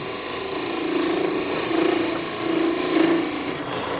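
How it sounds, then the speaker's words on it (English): A wood lathe turns the stems of a wooden Christmas tree ornament down toward a quarter-inch diameter, giving a steady, close whir with a high tonal whine and a gritty cutting scrape that swells and eases in passes, without speech. "Now I'm going to turn those stems down."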